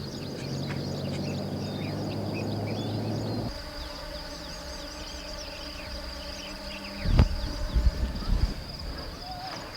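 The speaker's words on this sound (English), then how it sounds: "Judging by the sound of all the bees, I would say that honey is harvested from here." A steady, high-pitched insect buzz of many bees drones throughout, with a low engine-like hum that stops partway and a brief rustle near the end.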